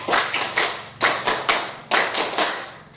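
Classroom group doing a concentration clap, many hands striking together in tight rhythmic clusters of three or four quick claps, close and loud, with short gaps between the sets and no voices.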